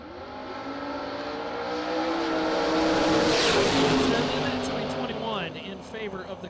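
A Camaro drag car roars down the strip, its engine rising in pitch and swelling loud as it passes close, then fading with a falling drone, a commentator talking faintly over the noise.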